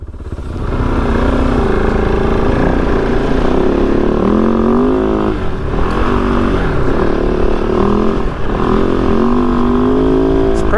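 A Kove 450 Rally or Yamaha WR250F dirt bike engine runs loud and close, its pitch rising and falling through repeated revs and gear changes. The drone is steady and dense throughout.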